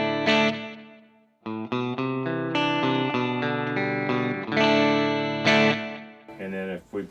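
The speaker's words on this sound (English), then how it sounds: "This is a kind of like a Roland Space Echo called a Cosmos Echo." Electric guitar through a Line 6 Helix set for a Cosmos Echo tape-style echo ahead of a tube amp: sustained chords and picked notes ring with trailing repeats, loud and close, with a brief drop into near silence early on.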